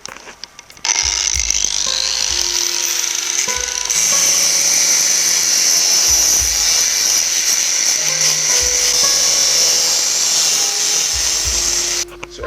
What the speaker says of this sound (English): I'll cut out these pieces with the angle grinder so that the flat piece can overlap the next part.